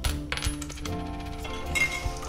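Coins being collected in the video game Card City Nights, a run of bright metallic chimes and jingles over game music, fairly close and steady for about two seconds.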